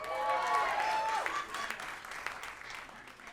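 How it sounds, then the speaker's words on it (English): An audience at a stand-up comedy show breaks into applause, a loud burst of clapping that tails off quickly over a few seconds, with some vocal sound mixed in at the start. "I do pause for applause there"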